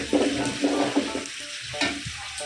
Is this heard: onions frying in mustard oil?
yes